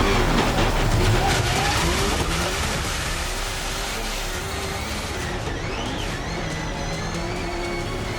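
Subaru rallycross race cars in a 10-car final, engines roaring steadily and close at first, then thinning into a continuous broadband drone with a brief tire-squeal-like sweep near the end.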